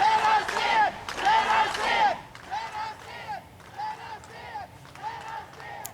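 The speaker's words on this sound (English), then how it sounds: "this was the scene outside the legislature, as those who were removed from the public gallery were applauded by other protesters on the lawn" Protesters on the lawn outside the Ontario legislature at Queen's Park chant and shout in loud rhythmic bursts, strongest in the opening seconds, then continuing in steady, slightly softer waves of crowd voices.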